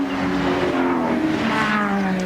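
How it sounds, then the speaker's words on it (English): A Holden Commodore touring car drives past at Bathurst, its engine note a loud, steady drone with a slightly rising pitch as it goes through. No one speaks over the car. "Brian Callahan going through there in the Mobile Concrete Pumping Services Commodore."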